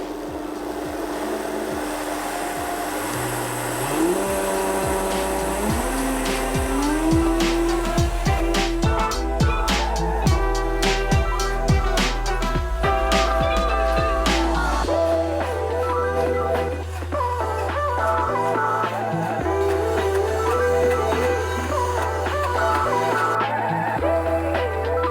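A Vitamix blender runs on high speed blending coconut into butter, its motor whine climbing steadily in pitch and then settling into a loud sustained drone with a few brief dips, no talking.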